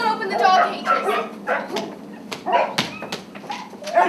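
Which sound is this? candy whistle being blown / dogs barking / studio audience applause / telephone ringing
dogs barking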